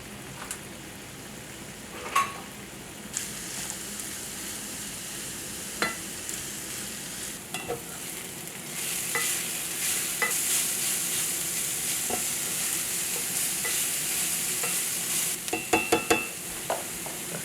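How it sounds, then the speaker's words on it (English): Sweet potatoes frying in heated olive oil in a skillet, a continuous sizzle broken by several sharp scraping stirs, growing louder and busier in the second half. "Get that heated. Put our sweet taters in here."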